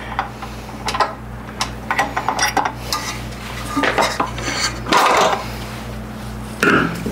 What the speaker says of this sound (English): Now I have two pans out.